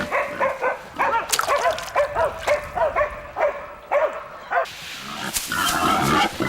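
Several hunting dogs bark repeatedly and excitedly at a wild boar in a forest, close by, with yelps and whines mixed in and rustling movement throughout.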